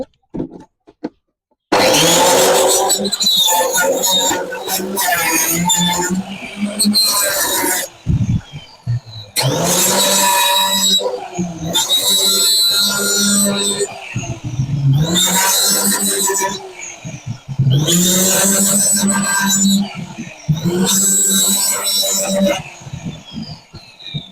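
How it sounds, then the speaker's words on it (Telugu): A handheld cutting machine slices through plastic containers to make holes for garden pots, loud grinding bursts repeating in several separate runs with short pauses between cuts. "ఇప్పుడు ఇవి కట్ చేస్తాను, మిషన్ తోటి కట్ చేసి హోల్స్ పెడతాను"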